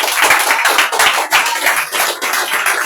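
A church congregation at a prayer meeting in Yopougon claps loudly together to acclaim Jesus, a dense and continuous burst of close applause with no pauses.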